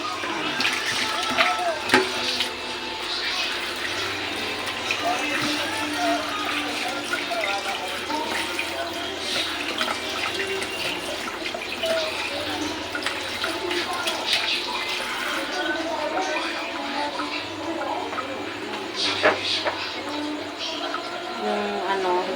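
Yardlong beans and eggplant soaking in water in a kitchen sink: continuous splashing and running water with faint clinks and handling sounds, moderately loud and close, without speech.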